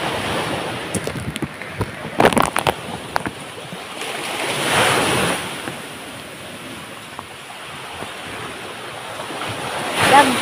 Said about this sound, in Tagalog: dagko na ag bawad